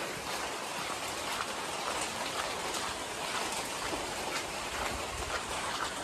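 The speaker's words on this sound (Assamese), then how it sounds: "পুৰা বৰষুণ মানে দেই সঁচাকৈ যে মাত শুনক না" Heavy rain falls at night outside a prayer hall during the monsoon month of Bhadra, a dense continuous hiss of drops pattering on surfaces, steady and enveloping with no talk.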